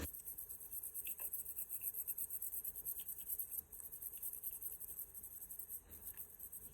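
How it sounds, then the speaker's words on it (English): Alcohol-soaked scrubbing clears excess resin from a resin print, making a steady, close, scratchy rubbing that runs continuously with only slight dips in intensity. "Just make sure you scrub all that excess resin off."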